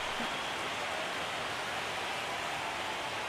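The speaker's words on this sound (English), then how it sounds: "Rain getting heavier." Heavy, steady rain pours over an open-air baseball game, a dense continuous hiss filling the scene from start to finish with no talk over it.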